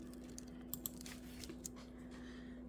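Computer keyboard typing while searching a grocery store website for sour cream: a few soft, scattered keystrokes, faint and fairly close, over a low steady hum.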